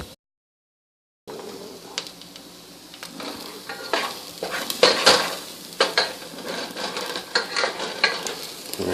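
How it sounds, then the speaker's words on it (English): Garlic and tender shallots sizzle in a hot pan after a moment of silence, with a spoon or spatula scraping and stirring in irregular clinks over a steady frying hiss, close by. "once you got your shallots tender, I'm going to throw in the garlic"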